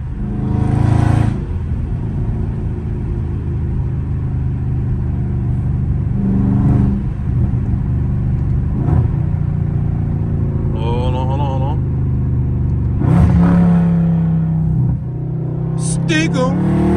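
A loud Dodge Scat Pack V8 on a drive rumbles and revs again and again as it downshifts, with throttle blips rising and falling under road noise inside the car.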